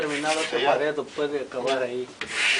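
Venetian plaster is polished with a trowel in repeated rubbing strokes, a scraping swish in a steady back-and-forth rhythm, close and fairly loud.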